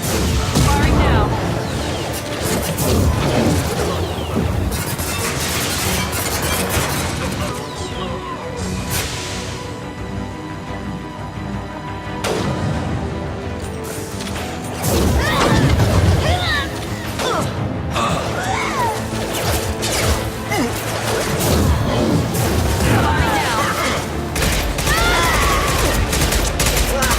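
Sustained gunfire crackles through a Mass Effect 2 firefight, layered bursts and heavy impacts over music and effects, with voices speaking at intervals across the long, loud stretch.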